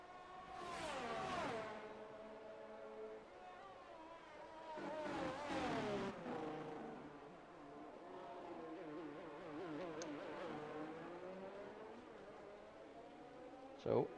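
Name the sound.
race car engines at Spa in F1 22 video game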